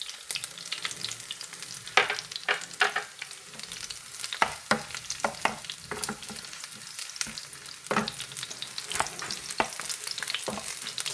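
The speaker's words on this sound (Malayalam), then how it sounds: "അതിലേക്ക് കുറച്ച് വെളിച്ചെണ്ണ ഒഴിച്ച് ചെറുള്ളി ഇട്ട് കൊടുത്തിട്ടുണ്ട്." Shallots and chillies fry in coconut oil in a pan, a steady close sizzle broken by repeated sharp clacks and scrapes of a spoon stirring, with no voices.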